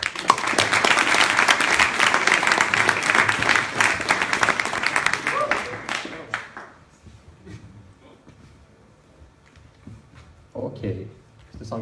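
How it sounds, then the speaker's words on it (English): A crowd at an augmented reality tech talk event breaks into loud, sustained applause for a speaker that fades out after several seconds, followed by quiet room noise and a few faint sounds. "Big applause."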